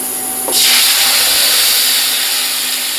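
Ground spice paste hits hot oil already holding bay leaf, cinnamon, cardamom and cloves for a Rajshahi potol posto dish, and a loud, close sizzle bursts out at once, then holds as a steady hiss.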